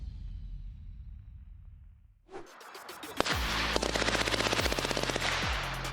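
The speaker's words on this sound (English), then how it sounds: "while using the Sig XM250 American machine gun" Sig XM250 American machine gun firing a rapid burst of evenly spaced loud shots after a quiet lead-in, with a sharp single report just before the sustained automatic fire.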